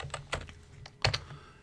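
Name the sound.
typing on a computer keyboard in Excel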